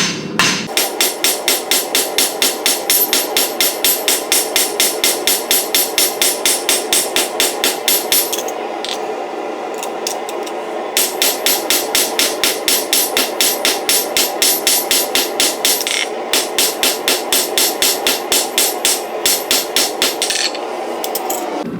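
A cold copper ladle is struck on an anvil in fast, evenly spaced hammer blows, two long bright metallic runs split by a short pause, loud and close.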